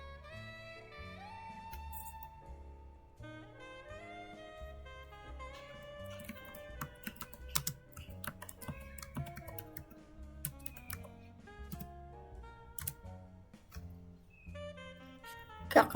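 MySQL commands typed on a computer keyboard while setting up a mail server on Debian 10, with quiet, irregular key clicks and occasional sharper taps, fairly faint and close, without speech.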